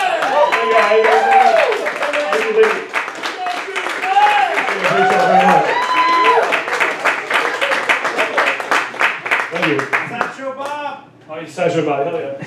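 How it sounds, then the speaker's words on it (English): An audience at a live open mic show applauds and cheers loudly for a performer, dense sustained clapping with excited whoops and voices, fading briefly near the end before a final burst. "that was so much applause"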